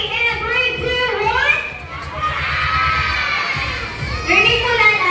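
A group of children shout together loudly at a sports activity, a bright chorus of overlapping young voices rising in excited bursts, with some spoken words mixed in.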